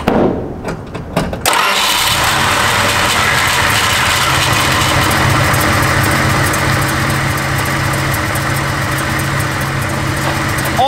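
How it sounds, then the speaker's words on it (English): First generation Cummins diesel truck engine cranking briefly, catching, then settling into a loud steady rumbling idle that continues for the remainder. "pumped the accelerator a few times, and the truck started right up"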